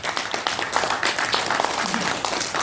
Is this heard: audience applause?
yes